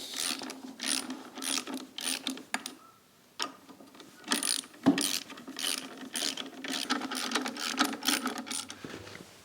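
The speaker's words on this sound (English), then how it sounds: "I'm going to bolt them down to 24 Newton meters" Bolts on a Ford Pinto clutch installation being tightened to 24 newton meters with a ratchet, producing close, rapid clicking pawl bursts that repeat with short pauses between.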